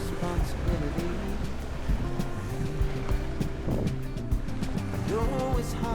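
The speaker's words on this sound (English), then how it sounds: "The wind was blowing fiercely with a steady 30 knots." Strong wind and waves at sea during an Atlantic sailing crossing make a steady, loud rush and buffeting around the boat, with irregular sloshes and creaks. No speech.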